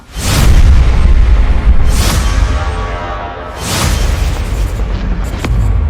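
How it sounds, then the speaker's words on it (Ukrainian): Several heavy booming blasts, one after another, each with a rumbling roar that lingers before the next hits; loud and close, no voices. "вибух пролунав біля будинку номер 9 по вулиці Сковороди"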